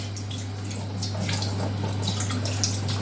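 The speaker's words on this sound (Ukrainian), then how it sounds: "Ставимо кастрюльку ось сюди під воду, включаємо водичку легенько ось так." Tap water runs gently into a pot to rinse pieces of fish for fish soup, a steady soft splashing and hiss with a constant low electrical hum beneath, close and uninterrupted.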